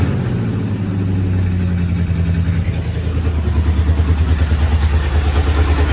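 A 1971 Ford F250 engine idling slightly high after being revived, a steady loud low rumble with a pulsing, even beat that firms up toward the end.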